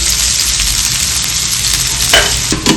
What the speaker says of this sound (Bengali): পেঁয়াজটা আমার একটু ভাজা হয়ে এসছে